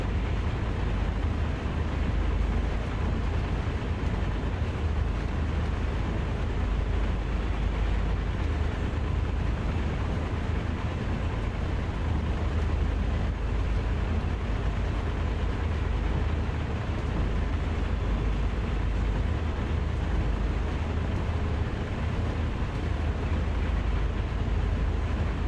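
A train rumbles along a corridor line past a level crossing in the Train Sim World game, a steady, dense, continuous roll of wheels and engine that holds at one loudness throughout, with no voices.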